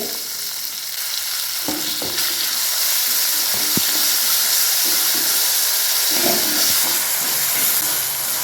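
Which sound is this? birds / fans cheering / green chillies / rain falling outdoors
green chillies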